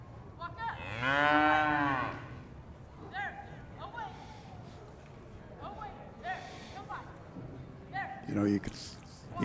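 Cattle at an arena cattle finals event let out a loud, drawn-out moo, followed by a few shorter, fainter lowing calls, with people talking throughout and the hum of the arena behind.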